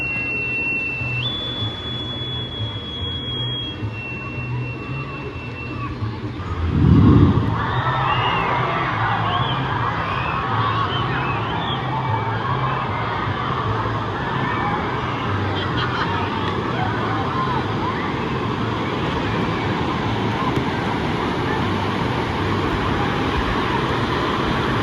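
Wave pool waves at Typhoon Lagoon water park wash in a steady broadband roar, with one louder surge crashing partway through, under constant crowd hubbub and distant voices.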